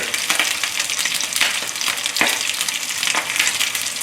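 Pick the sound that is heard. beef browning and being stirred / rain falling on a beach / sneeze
beef browning and being stirred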